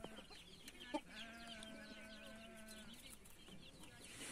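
Chickens in a backyard coop cluck and call softly, with a sustained drawn-out note from one bird over faint background chatter, heard quietly and at a distance.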